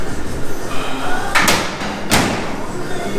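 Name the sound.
Model A car door shutting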